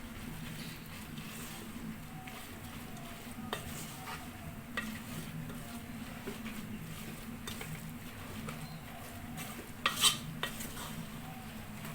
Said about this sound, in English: Now we'll give this a good mix.